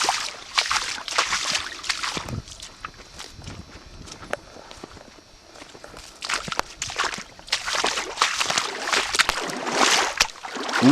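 Boots slosh and splash through deep pools of standing water on a wet forest track, steady footsteps close by with irregular watery surges throughout.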